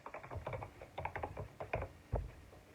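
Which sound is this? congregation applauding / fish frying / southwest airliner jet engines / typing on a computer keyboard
typing on a computer keyboard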